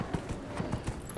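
A horse mount trots in the Dragon Age: Inquisition video game, its hooves sounding a rhythmic, fairly close clip-clop of about eight quick, even steps.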